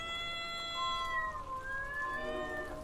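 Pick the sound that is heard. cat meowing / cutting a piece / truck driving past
cat meowing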